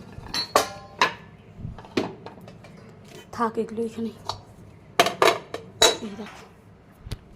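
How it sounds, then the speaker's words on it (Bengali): A karai and other kitchen utensils clinking and knocking as they are handled and set down, sharp metallic hits scattered among brief spoken words nearby. "এই যে কড়াই দুধের জাল দেওয়ার জন্য কড়াই নিয়েছি"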